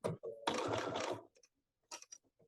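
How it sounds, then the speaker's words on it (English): A sewing machine stitches the edge of a fabric project bag in a steady burst of rapid mechanical stitching lasting under a second, close and clear, followed by faint clicks and short handling noises. "I'm going to stitch right to that edge."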